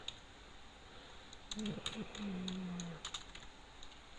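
Keys clack on a computer keyboard while a command is entered to set up a bootable Windows 7 USB drive, with scattered taps, a brief burst and faint low murmuring in a quiet room.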